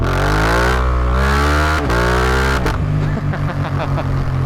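A Suzuki GSX-8R motorcycle engine revs hard and loud up close, its pitch climbing and dropping through several throttle blips before settling into a rough idle.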